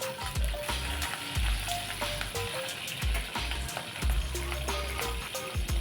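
Cumin, chana dal and green and dried red chillies fry in oil in a pan, making a continuous close crackle while a spoon stirs and scrapes with repeated knocks and taps, with no voices.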